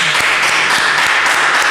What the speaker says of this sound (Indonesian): Boleh berikan tepuk tangan dulu untuk kita semua